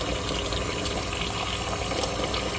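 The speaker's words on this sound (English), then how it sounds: "I'm going to rinse off my potatoes. Just going to let them sit in some water until it's time to put them on the stove." Potatoes being rinsed under running kitchen tap water, a steady close rushing and splashing flow that continues unbroken throughout with no voices.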